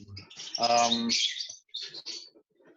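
Lovebirds in a breeding aviary give shrill, close chirps and a short raspy call in quick bursts, with brief pauses between them.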